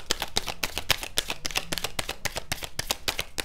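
Tarot cards being shuffled and drawn up close, a rapid, steady flutter of cards riffling and snapping against one another, fairly quiet, with no talk over it.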